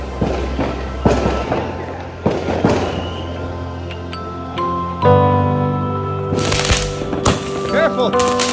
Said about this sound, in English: The firecrackers and the fireworks.